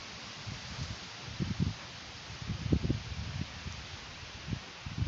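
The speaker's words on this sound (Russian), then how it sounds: "Ветер шумит, вот прям обожаю, когда ветер шумит." Wind blowing across an open grassy steppe, a steady broad rushing with soft rustling gusts that swell and ease throughout, fairly faint and with no one talking.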